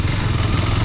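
Motorcycle engine running steadily while riding a pothole-ridden, landslide-damaged monsoon mountain road near Darjeeling, a loud, close, continuous mid-pitched drone with no talk over it.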